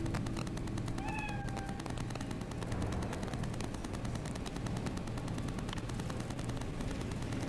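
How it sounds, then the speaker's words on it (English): A cat in a video game lets out a couple of short rising meows near the start, heard over a loud, steady bed of game background noise and rapid crackling that continues throughout. "I was trying to pet the cat."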